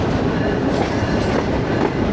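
A passenger train sits at a station platform with steady rumbling and a faint clickety-clack of wheels. The noise holds at a constant, fairly loud level throughout, and no voices are heard.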